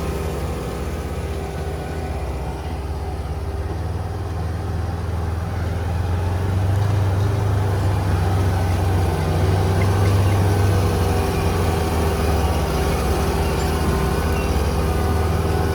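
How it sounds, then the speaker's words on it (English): Tractor engine pulling a homemade subsoiler through a field, a steady, loud low-pitched drone that runs without a break and swells slightly partway through, with no voices. "And the tractor's not working anywhere near as hard, you can tell it's not."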